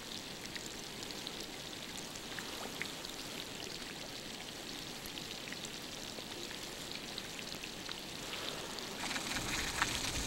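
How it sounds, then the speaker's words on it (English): Meltwater pouring off an iceberg near Upernavik, a constant rushing, trickling wash with scattered drips and pops, growing slightly louder at the very end, no talk. "this is the sound of gallons of water melting and pouring off of this iceberg"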